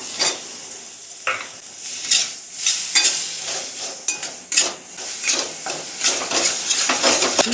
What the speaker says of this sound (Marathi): रवा बेसन भाजले आता ही मलाई घालून घेऊया